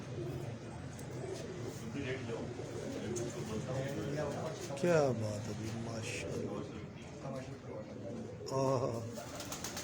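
Pet pigeons cooing on a Karachi rooftop loft, their soft murmuring calls running steadily beneath close, continuous talk from men admiring the birds.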